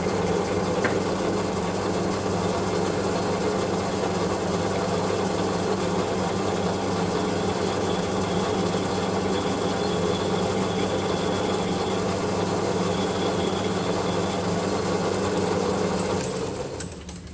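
A metal lathe cuts a chamfer on a workpiece during a Kasto EBS 400 power hacksaw rebuild, a steady motor hum with a faint intermittent cutting whine, close and continuous, winding down at the end.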